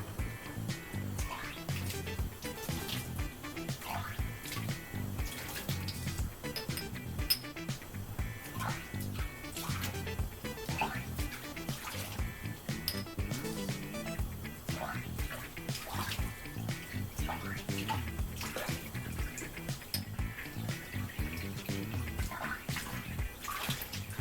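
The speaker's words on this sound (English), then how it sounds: "fill each test tube with tap water and empty the tube twice" Tap water splashes and runs as test tubes are filled and emptied while rinsing after a saponification experiment, a steady busy wash of water noise throughout.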